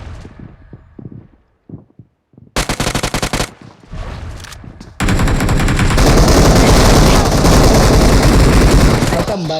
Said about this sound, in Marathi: एवढ्या गोळ्या मारल्या त्याला